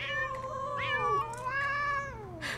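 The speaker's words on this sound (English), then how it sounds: "the kitty wriggles free and dashes into the group of agitated kitties, all hissing and growling" Agitated cats in the Love and Deepspace game meowing in a long, wavering, insistent cry with brief breathy hissing bursts, close and clear over a low hum.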